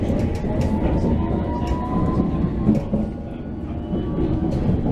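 A London Thameslink train running between stations, giving a steady, close rumble of wheels and carriage noise that holds an even level from start to finish, with faint higher squeals riding over it.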